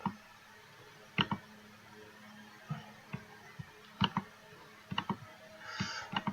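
Computer mouse clicks while ticking checkboxes in the Unity editor, sharp isolated clicks at uneven intervals, some single and some in quick pairs, close against a quiet background.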